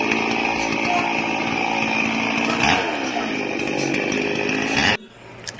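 A chainsaw roars loud and steady while cutting through a very large mango tree, the engine holding a high whine for about five seconds before cutting off abruptly, then quiet rustling.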